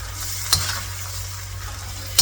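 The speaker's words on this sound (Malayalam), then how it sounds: "നമ്മുടെ ചിക്കൻ, വെജിറ്റബിൾസ് എല്ലാം കൂടെ നമ്മൾ ഇതിലേക്ക് ആഡ് ചെയ്യണം." Chicken and vegetables frying on full flame in a pan, a steady close sizzle with two sharp spoon scrapes against the pan as they are stirred, no voices.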